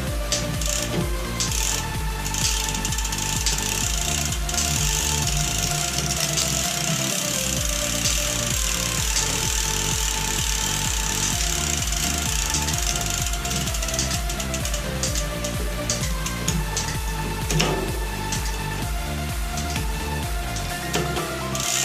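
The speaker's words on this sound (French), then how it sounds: "on va essayer pour voir si toutes les vitesses passent bien" A bicycle rear derailleur being adjusted as the pedals are turned and the chain shifts through the gears, giving a loud, continuous mechanical whirr with rhythmic clicking and ratcheting close by, and no voices.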